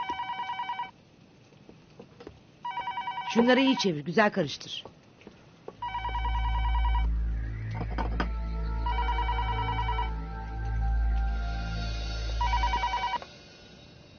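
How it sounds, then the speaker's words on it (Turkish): A telephone bell rings in repeated bursts with short gaps between them, fairly loud, while people talk and a low hum plays underneath, in a Turkish drama scene. "Telefona bak, geliyorum şimdi."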